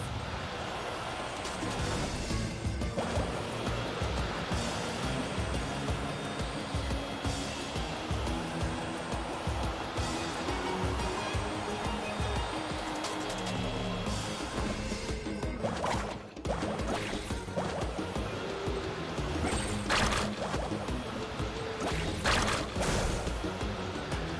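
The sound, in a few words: waves splashing while surfing in video game Genshin Impact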